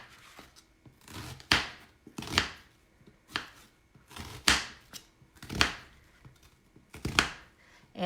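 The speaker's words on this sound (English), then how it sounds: "I like it chopped, so I'm going to cut it towards the root" A knife chops an onion on a cutting board with about eight to ten crisp, evenly spaced strokes, close and moderately loud, with no talking.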